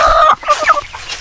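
Two farm chickens cluck loudly and close by during preparations for a village fiesta. The calls come in short, busy bursts, with no talk over them.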